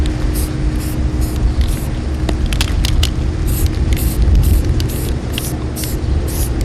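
An aerosol can sprays a light coat onto a craft piece. The hiss is loud, close and continuous over a low rumbling background, with brief sharper bursts.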